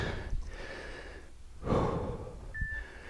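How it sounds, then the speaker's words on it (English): Heavy, labored breathing from someone mid-way through a full-body Tabata workout on a mat: close gasps and deep huffing exhales come in uneven bursts, with a sharper gasp near the end. "See why I said you better have music on, so you don't have to hear my breathing."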